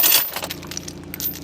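A metal chain rattles and clinks with a short jangle and scattered metallic taps while a skid steer bucket is secured onto a trailer with ramps and ratchet straps.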